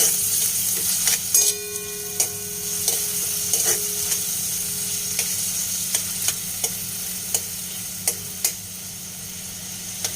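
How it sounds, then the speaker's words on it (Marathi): Tomato sautéing in a pan for a sweet-sour moong dal, a steady low sizzle punctuated by regular sharp taps and scrapes of a spoon stirring against the metal, no voices. "टमाटा चांगला परतून घ्यायचा आहे आपल्याला"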